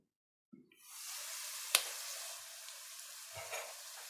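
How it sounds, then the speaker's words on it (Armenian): Cabbage and plenty of onions fry in a pan as the lid goes on with a soft knock, followed by a steady close sizzle, one sharp click, and a light tap near the end. "թողնում ենք էլի տապակվի"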